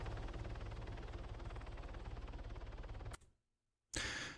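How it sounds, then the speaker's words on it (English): A helicopter takes off in the video game Arma 3: a steady, rhythmic rotor chop runs for about three seconds, then cuts to near silence before a sudden loud burst of sound returns at the end. "Now the chopper will take off and fly away."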